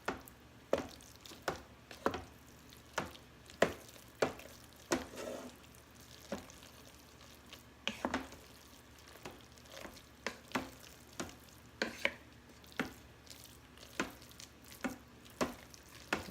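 Cheese, including Parmesan, gets stirred into spaghetti in a pressure cooker, with a quiet run of regular sticky squelches and utensil knocks against the pot, spaced roughly every second.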